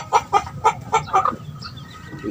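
Chickens on a small backyard chicken farm cluck in a quick series of close, moderately loud calls, followed by scattered quieter clucks against a low background murmur.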